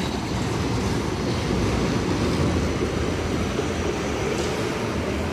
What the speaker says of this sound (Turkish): Tabii şu an tramvay da hareket ettiği için o da gidiyor.